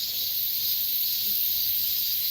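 Cicadas drone in a steady, dense, high-pitched buzz at Heungcheonsa temple, a continuous shimmering chorus with no pauses, moderately loud and without any voices.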